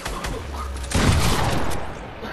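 Sniper rifle gunshots in Fortnite, heard as a loud, sharp report among clustered gunfire with a rumbling tail, close and prominent over brief game noise.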